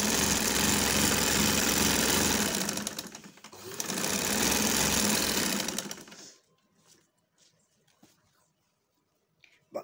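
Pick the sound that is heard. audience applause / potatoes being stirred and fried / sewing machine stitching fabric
sewing machine stitching fabric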